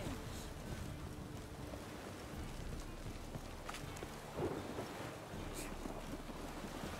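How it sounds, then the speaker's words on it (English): Steady rain in the video game Witcher 3 makes a continuous broadband hiss with a low rumble throughout. It stays at an even level, with a brief soft thump near the middle. "Everyone's like running around trying to get the hell out of the rain"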